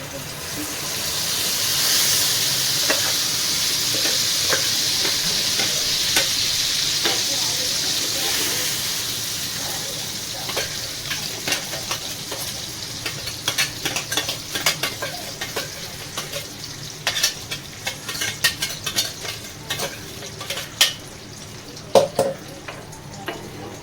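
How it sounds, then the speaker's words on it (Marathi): Ground paste sizzling and frying in a pan for tomato chutney, a steady hiss with stirring scrapes and clinks growing more frequent toward the end, a voice talking over it. "तर ह्यामध्ये आता आपल्याला हे वाटलेलं टाकायचं आहे सर्व"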